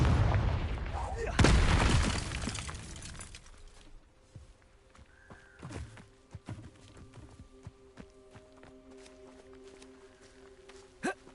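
A Confringo fire spell blast in the video game Hogwarts Legacy, a loud bursting boom at the start that decays into quieter game ambience with faint scattered knocks and tones.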